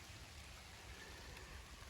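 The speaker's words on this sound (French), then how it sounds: "bon il pleut" Steady rain falling on a vegetable garden bed of beans, a soft continuous hiss of drops with no voices, even and unbroken throughout.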